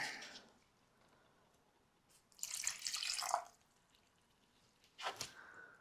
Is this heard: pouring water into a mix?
yes